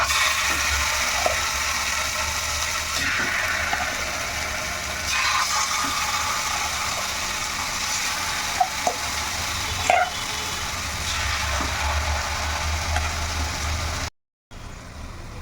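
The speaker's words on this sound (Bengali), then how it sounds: "এখন এই যে ম্যারিনেট করা চিকেন এর মধ্যে দিয়ে দেবো" Marinated chicken fries in melted butter in a pan over medium-low heat, making an even hissing sizzle with a few soft pops. The sound drops out briefly near the end.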